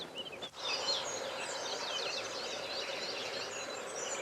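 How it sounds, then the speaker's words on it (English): Several birds sing at sunrise over the O Cebreiro mountains on the Camino de Santiago in Spain, with faint overlapping chirps and trills drifting in from a distance after one brief soft knock. "the birds are here to celebrate it."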